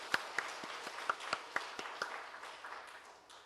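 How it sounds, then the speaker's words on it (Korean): Sparse, faint clapping from a church congregation at a 75th anniversary Sunday service in Daegu, a few distinct claps in loose rhythm that thin out toward the end. "하나님께 감사와 영광의 박수를 올려드리겠습니다"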